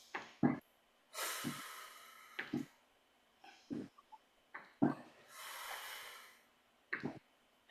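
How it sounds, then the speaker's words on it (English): Repeated forceful exhalations through pursed lips during a breathing exercise class, each a short airy puff or longer hiss, close and clear, spaced out with quiet pauses between breaths. "Breathing out through pursed lips."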